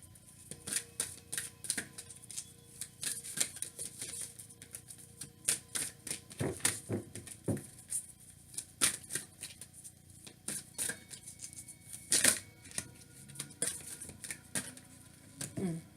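Tarot cards are shuffled up close in a quick series of crisp riffling clicks and flicks, irregular and continuing throughout, with faint speech in the background.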